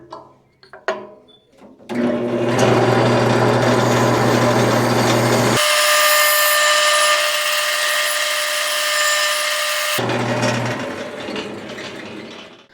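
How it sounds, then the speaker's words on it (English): A bandsaw cuts a long marked line through a workpiece, a loud steady mechanical whine and hum running unbroken for about eight seconds after a brief start, its tone shifting partway through, then winding down. "I'm gonna bring this over to the bandsaw and we're gonna cut this whole line."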